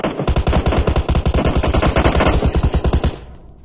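Rapid automatic gunfire from a video game rattles out in a loud, close, steady burst of evenly spaced shots for about three seconds, then cuts off abruptly.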